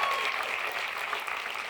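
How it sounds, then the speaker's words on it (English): A theatre audience at a live medium show at the Alex Theatre in St Kilda applauds, a dense, steady wash of clapping hands filling the room at even loudness throughout. "Give yourself a round of applause."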